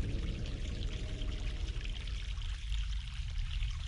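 Mountain stream water pouring steadily in The Longest Journey video game, a continuous full splashing rush with no pauses, close and loud, heard alone.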